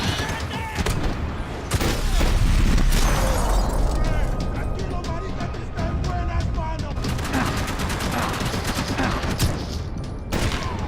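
Dense, rapid gunfire bursts and sharp shots from the video game Max Payne 3, played on Hard difficulty, crackling continuously throughout with loud volleys and game voices underneath.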